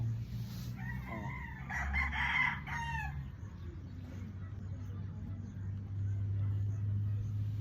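Roosters crowing at a gamefowl farm housing battle-cross birds, several crows close by over a low hum and someone talking.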